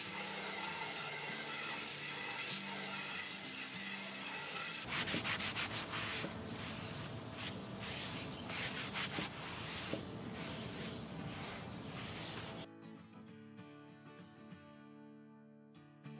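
A small wire brush scrubs the grooved handle of a neglected cast iron pan in steady, close, rasping strokes, with a sharp change in texture partway through and a quieter scraping stretch near the end.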